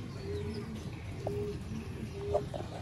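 A pair of Sialkoti pigeons kept by a pigeon fancier coo softly in a few low, brief calls, faint against a quiet background.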